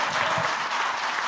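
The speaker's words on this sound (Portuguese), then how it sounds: "Aplaude a Deus pela vida do Luiz aí" A church congregation breaks into brief, loud applause during a celebration service, dense hand clapping filling the hall.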